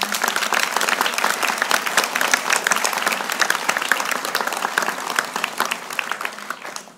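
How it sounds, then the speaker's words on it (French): A large audience at a French municipal speech bursts into sustained, dense applause honoring their city, loud and steady for several seconds before tapering off at the end. "je voudrais vraiment que nous applaudissions notre ville"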